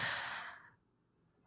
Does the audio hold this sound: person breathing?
yes